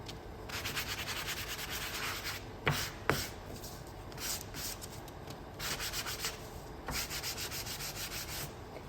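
Painted wooden pieces for a DIY shaker sign being sanded by hand, a steady close scratchy rubbing that goes on throughout in short strokes, with a couple of sharper knocks near the middle.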